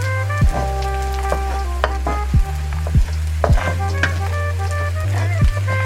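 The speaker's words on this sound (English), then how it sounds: "We're just cooking this garlic up on the residual heat of the pan." Garlic cooking in oil in a hot pan with the flame off, a soft, steady sizzle broken by repeated clacks and scrapes of a utensil stirring against the pan.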